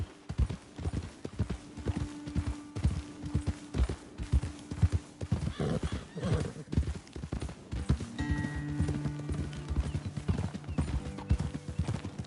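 In Red Dead Redemption 2, horse hooves clip-clop at a steady walking pace, with snorts and a whinny and a low hum underneath; no talking.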